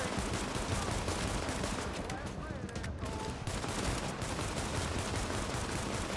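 Dense, continuous gunfire from Tom Clancy's The Division, with overlapping bursts running nonstop for about six seconds and a brief dip in the middle, mixed with game noise and occasional voices.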